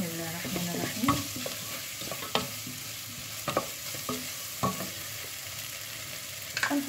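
Rice being stirred in a pot while cooking, with soft scraping and rustling strokes at an irregular pace over a faint steady sizzle, close and fairly quiet.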